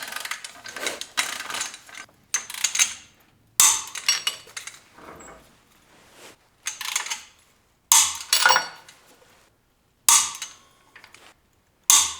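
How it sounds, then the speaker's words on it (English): Bolts are tightened during a Yukon Ultimate 88 locker install on a Ford 8.8 axle, heard as a series of sharp metallic ratcheting and clanking bursts separated by short quiet gaps, close and distinct. "these bolts go to 40 foot-pounds"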